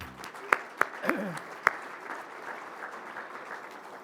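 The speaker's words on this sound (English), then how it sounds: "Let's give Tyler another round of applause." A few sharp claps, then sustained applause from a convention audience, a soft dense patter that carries on steadily at moderate volume, with a brief voice at the start.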